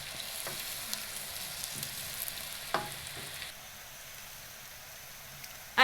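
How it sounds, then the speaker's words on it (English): Potatoes stirred and frying in a pan for a chicken curry, giving a steady close sizzle with scraping stir strokes, a few sharper clinks, and a short louder knock at the end. "You add in your potatoes and mix that all up."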